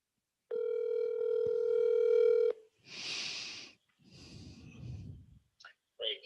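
A telephone dial tone while placing a call, a steady electronic tone held about two seconds, followed by breathy sighs and soft noises close by.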